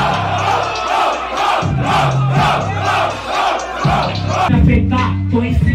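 A rap battle crowd shouts and cheers loudly in unison, rhythmic surging chants from a packed audience, a rising roar near the end with a held tone over it.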